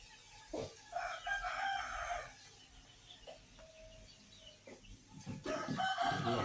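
Free-range village chickens kept for meat and eggs cluck in bursts, and a rooster crows at moderate distance, with faint farmyard background between calls.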